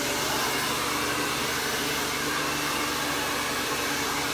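A blow dryer roars steadily at close range while it dries hair with a brush, a loud unbroken whoosh with no voices.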